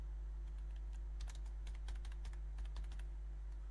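Typing on a computer keyboard, heard as irregular light key clicks in small clusters over a steady low electrical hum, close but fairly quiet.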